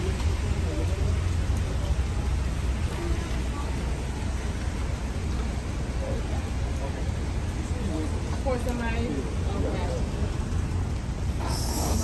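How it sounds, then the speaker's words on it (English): Rain falls steadily on a game day outside in New Orleans around the Bayou Classic, a constant close hiss of drops with faint voices and passing traffic underneath. "it's raining on game day, so we're gonna have to walk with this umbrella the whole time to the stadium"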